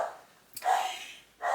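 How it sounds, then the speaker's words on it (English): A dog barks twice in the background, two short, fairly loud barks separated by about a second, with no talk over them. "that's Kitty barking in the background"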